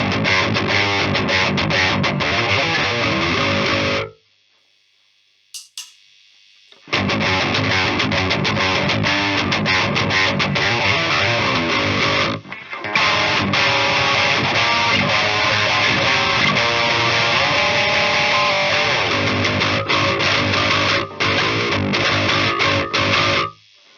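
Electric guitar played through a Harley Benton Mighty 15 amp with a KSR EROS pedal in clip mode, heavily distorted chords held loud and sustained, broken by a sudden stop of about three seconds and a brief dip later.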